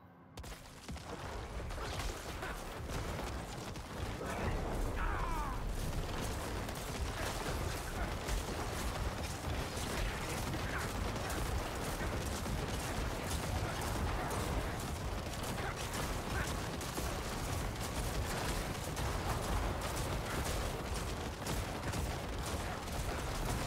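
Diablo game combat with a Necromancer's corpse explosion shadow damage over time: dense, relentless crackling bursts and booming impacts layered into a loud continuous roar, with faint talking underneath.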